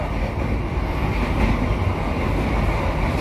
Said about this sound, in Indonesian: Kereta ini kayaknya lokal deh atau aglomerasi ya.